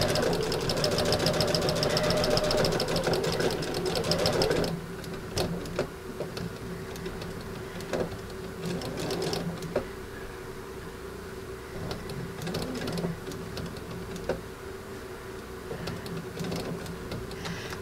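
A sewing machine stitches a candy corn wallhanging close to the edge, running in a steady mechanical whir that is loud and busy at first, then thins to a quieter hum with scattered ticks and clicks.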